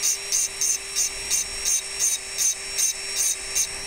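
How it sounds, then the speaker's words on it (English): A rotary drill with a stone bit engraving glass, a high whining grind pulsing in short regular bursts about every third of a second over a steady motor hum, close and fairly loud, with no talking. "my drill's freaking out here"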